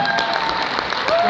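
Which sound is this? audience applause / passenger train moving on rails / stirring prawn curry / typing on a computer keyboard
audience applause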